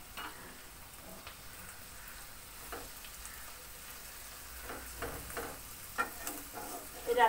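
Mola carplet fish stir-fried by tossing and shaking in a pan, producing a quiet, soft sizzle with light intermittent scrapes and clinks that grow slightly louder toward the end.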